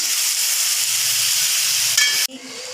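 Ground spices with ginger, cumin and dry chilli powder sizzling in hot oil in a pan, a loud steady hiss that cuts off abruptly near the end, leaving quieter clinks and faint sizzle.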